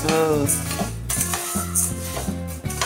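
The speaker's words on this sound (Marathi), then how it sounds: "भाजून घ्यायची छान मूग" A spoon stirs and scrapes moong lentils dry-roasting in a pan for mugache laadoo, with a steady rhythmic clatter and a faint sizzle close by.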